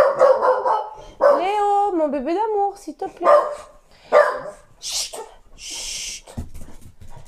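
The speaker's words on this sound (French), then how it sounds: "Excusez-moi, c'est mon chien." A pet dog barks and yips excitedly at a passing neighbour, loud close calls with a whining howl, interleaved with someone speaking soothingly and shushing it.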